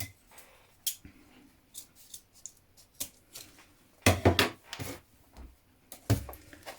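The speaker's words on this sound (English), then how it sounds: "So now this part here can be trimmed away." Scissors snipping away excess fabric on a sewn purse or pouch, a run of quick sharp cuts clustered in bursts, close and fairly quiet, with softer handling noises between.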